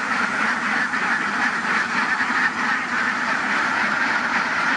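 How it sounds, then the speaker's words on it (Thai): Many ducks quack together in a continuous, loud, dense chorus at a duck farm during egg collection, with no pauses and no talk. "โอ้โหนะครับดูเป็ดเยอะมาก"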